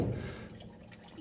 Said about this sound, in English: now all my coolant is draining